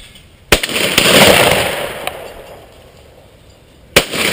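Shotgun blasts at a sporting clays range, two sharp loud reports about three and a half seconds apart, each followed by a short echoing decay outdoors, with no talking.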